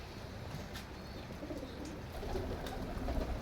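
Soft cooing of Teddy pigeons, low and murmuring, repeating quietly against a faint background hiss, growing slightly fuller toward the end.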